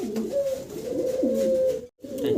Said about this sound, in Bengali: হেলমেট কবুতর, এই যে নটটা ডাকতেছে